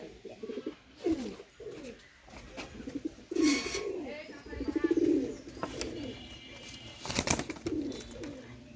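A pair of Pakistani teddy pigeons gives soft, repeated cooing calls with brief pauses and a few wing flutters, close and fairly quiet, while someone talks intermittently.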